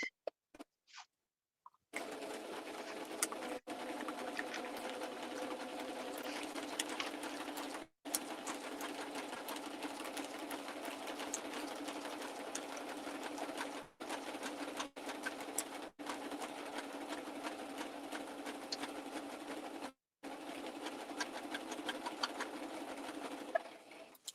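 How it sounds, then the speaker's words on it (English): A sewing machine runs in a steady, continuous whir for over twenty seconds, broken by several brief stops, with no one speaking. "Is it sewing right again, or is it going wrong again now?"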